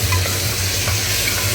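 Onion and ginger paste frying in a pan for a pepsa fry, a loud, close, continuous sizzle and crackle with stirring and no voices.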